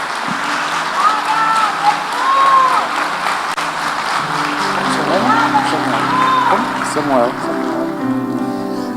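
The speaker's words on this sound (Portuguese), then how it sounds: "Vamos aplaudir o Senhor Jesus pela vida desse irmão" A church congregation breaks into sustained applause, a dense continuous patter of clapping with voices and music underneath, filling the room for several seconds.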